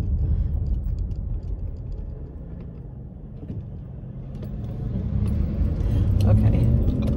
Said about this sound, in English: Here comes a truck. I better stop right here for this big guy.